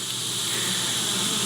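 Honey bees buzz steadily around a hive during a beginner's backyard hive inspection, a dense, continuous droning hum held evenly throughout the short moment with no voices.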